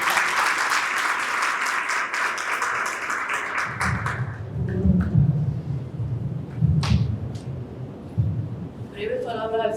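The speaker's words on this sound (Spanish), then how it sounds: "Recibamos con un fuerte aplauso a la señora Gemini." Audience at a university panel in a hall applauds for about four seconds, a dense broadband wash of many hands that cuts off abruptly, followed by low murmuring and scattered sounds with a brief burst of noise near the end.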